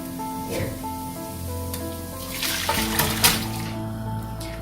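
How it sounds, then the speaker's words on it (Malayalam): Cooked beef, together with its cooking water, is poured into a pan for Kerala-style beef fry, producing a soft splashing pour with light sizzling, fairly quiet and over a steady kitchen hum. "അത് മാറ്റിക്കളയൊന്നും വേണ്ട. വെള്ളത്തോടെ ഇതിനകത്തോട്ട് ചേർക്കാം."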